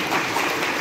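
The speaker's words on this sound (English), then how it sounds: "Can we clap for them also?" An audience at a Kenyan election results announcement gives a brief, dense wash of applause for the EU observer mission, continuous and fairly loud, with no voices over it.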